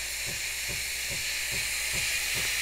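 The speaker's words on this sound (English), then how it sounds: "I turn the thermal jet, matter of seconds, as you can see, steam is ready to go." Steam hisses steadily from the wand of a Breville espresso machine, a loud continuous high-pitched rush with faint rhythmic low thumps underneath, no voices.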